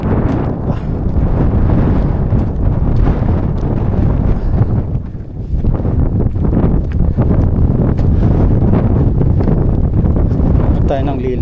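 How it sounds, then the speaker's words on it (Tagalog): Strong wind on a desert hiking trail at Wadi Ghalila Dam roars and buffets the microphone in loud, continuous gusts, dipping briefly midway before surging again. "Grabe lakas ng hangin."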